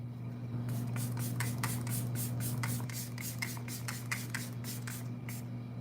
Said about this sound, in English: I'm gonna spray myself one more time.